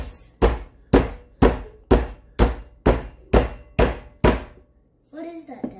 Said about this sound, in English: This is a meat mallet.